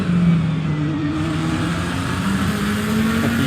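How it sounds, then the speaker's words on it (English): GT3 race car in Assetto Corsa Competizione at Snetterton, its engine holding a steady, slightly wavering drone as traction control cuts in, loud and close with no talking. "You can hear the traction control."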